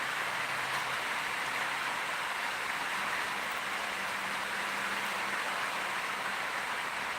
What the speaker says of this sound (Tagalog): Wala pong magawa, umuulan.